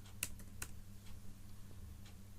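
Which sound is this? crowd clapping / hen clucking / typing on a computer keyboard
typing on a computer keyboard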